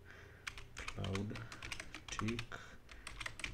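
Typing on a computer keyboard while setting up a MikroTik router: quick, close, clicky keystrokes in short bursts, with a person talking over them.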